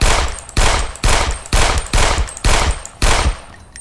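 Seven evenly spaced pistol shots ring out one after another from a large black PPK in a video game, each loud and sharp with a short decaying tail.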